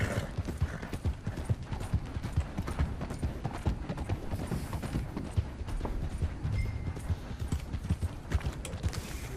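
Horse hooves gallop at a steady, rapid clip-clop in Red Dead Online, loud and close throughout with a brief whinny.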